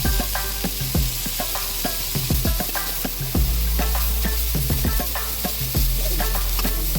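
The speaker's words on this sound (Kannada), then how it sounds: "ಈರುಳ್ಳಿ ಫ್ರೈ ಆದ ನಂತರ ಜೊತೆಗೆ ಟೊಮೆಟೊ ಹಾಕೊಂಡು ಫ್ರೈ ಮಾಡೋಣ." Onion and tomato fry for egg masala in a hot pan, a loud, steady sizzle under repeated clattering stirs and scrapes of a spoon against the pan, close and with no voices.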